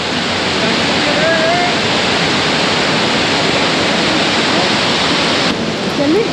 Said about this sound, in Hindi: देखिए कितनी प्यारी मंदाकिनी नदी अपना सुंदरता पेश करती हुई